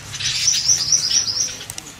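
Golden-headed weaver birds chirp busily in a continuous, high-pitched chatter, close by at a bird shop, with a faint low rumble underneath.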